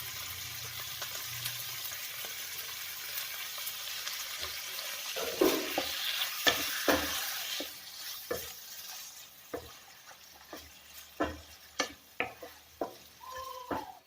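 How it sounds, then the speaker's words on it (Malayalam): Cooked beef pieces tipped into a masala for a Kerala beef peralan, bringing a steady sizzle in the pan and then a run of sharp, close scraping stirs that grow more frequent toward the end. "ഇനി നമുക്ക് വേവിച്ച് വെച്ചിരിക്കുന്ന ഇറച്ചി ബീഫ് അതിലേക്ക് ഇട്ട് കൊടുക്കാം."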